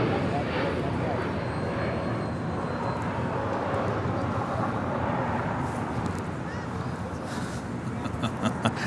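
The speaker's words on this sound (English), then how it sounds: "That was American Airlines Flight 1959 heading to Miami, Florida in that 787-8 Dreamliner" An American Airlines Boeing 787-8 Dreamliner passes at LAX with a broad, steady jet roar that swells and fades, heard from a crowded viewing park with people talking over it and wind buffeting the microphone.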